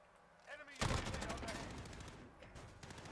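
Rapid light-machine-gun fire erupts in a Call of Duty Modern Warfare multiplayer match, a sudden loud burst followed by sustained rattling shots that continue to the end, after a quieter lead-in.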